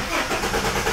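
A Ford AU Falcon engine, freshly fitted with new exhaust work, cranks and catches into a steady running rumble, loud and close for about a second with no talk over it.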